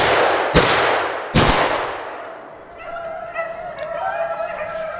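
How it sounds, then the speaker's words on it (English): Two loud shotgun blasts ring out about a second apart during a South Carolina rabbit hunt in brushy thicket, each with a sharp crack and decaying tail, followed by faint birdsong in the background. "I took a pop shot at him as he went through the thicket."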